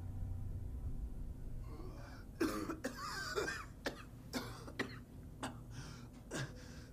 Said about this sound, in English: Yes, I'm gasping and coughing.